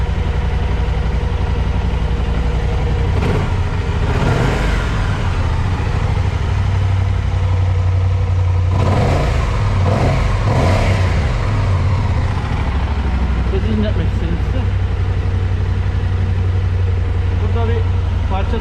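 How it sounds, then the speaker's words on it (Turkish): A BMW motorcycle engine rumbles steadily with deep exhaust throb and a few rising revs, loud and close, with talking over it. "bu BMW'nin egzoz sesine bayılıyorum bu arada."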